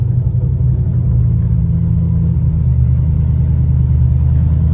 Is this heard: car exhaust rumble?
yes